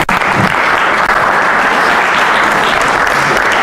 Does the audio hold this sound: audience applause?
yes